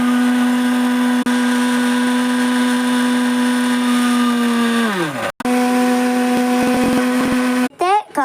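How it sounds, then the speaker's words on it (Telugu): A mixer grinder blending banana with milk into a milkshake, a loud steady motor whine that holds for several seconds, then winds down, briefly restarts and cuts off with short pulses at the end. "ఇప్పుడు మిక్సీ టర్న్"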